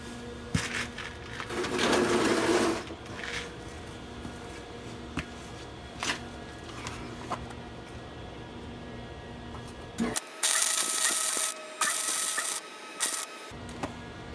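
A wire-feed welder crackles in bursts on a very rusty Volkswagen Bus: one long spell early on, then several short harsh runs near the end. The welder is nearly out of wire and sputtering.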